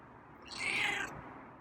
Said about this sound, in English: It's another nice meow.